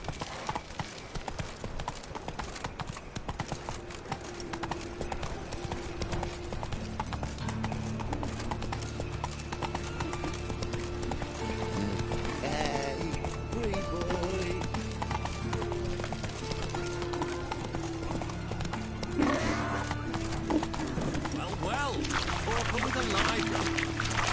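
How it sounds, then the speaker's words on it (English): Hooves of the horse Roach gallop in The Witcher 3, a steady, rapid clip-clop under game music and ambience, with a voice speaking over it in places. "Whoa there, Roach"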